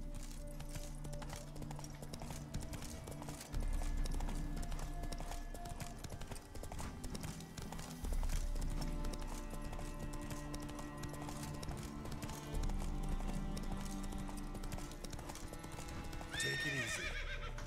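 Roach the horse galloping in The Witcher 3, hooves clip-clopping in rapid repeating bursts with occasional whinnies over game music, and someone speaks briefly.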